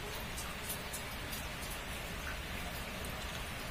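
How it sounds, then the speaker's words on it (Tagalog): Water leaking from a plastic faucet, a steady close patter of drips and splashes into a filling container, continuous and fairly loud with no talk. "Malakas-lakas po yung tulo niya."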